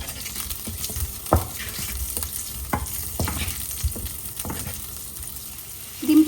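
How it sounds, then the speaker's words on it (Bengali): Eggs frying in pure ghee in a pan for an egg korma, a steady close sizzle with several sharper crackles and stirring clatters, no talking. "আমি এখানে একটু সামান্য ঘি নিয়েছি, এটা কিন্তু খাঁটি গাওয়া ঘি দিয়ে আমি ঘির সাথে ডিমগুলা ভেজে নিব।"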